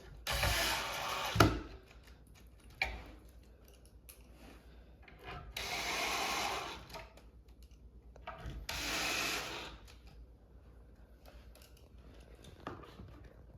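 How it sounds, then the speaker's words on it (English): Screws being driven into a wooden farmhouse shoe bench: three bursts of drill whir of a second or two each, separated by clicks and handling knocks, close and moderately loud, with no talk. "Install our screws."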